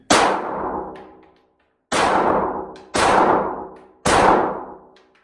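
Four loud, close pistol shots from a CZ P10 S, each a sharp crack with a long ringing decay, spaced roughly a second apart with a short pause after the first, no talking.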